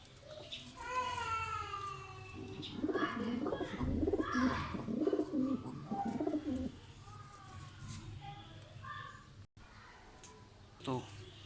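A pigeon coos in soft, throaty bursts up close, while someone talks over and between the calls.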